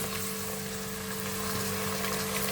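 Onions sizzle steadily in a pan as tomatoes join them, giving a constant, even frying hiss with no pauses and no voices.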